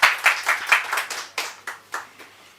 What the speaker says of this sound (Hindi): दीपाली के लिए ज़ोरदार तालियां